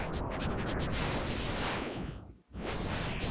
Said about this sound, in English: by making the image 10 times the size and turning it into audio,